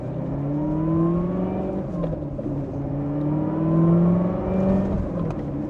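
Corvette C7 Z06 engine revving, its supercharger whine rising and falling in long tonal sweeps over a steady exhaust drone, loud and close with no talk.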